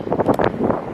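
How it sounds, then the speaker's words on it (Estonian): Wind gusting on a rainy beach in Tenerife, buffeting the microphone in loud, rumbling bursts across a short stretch, with no speech. "Tuuline on ka."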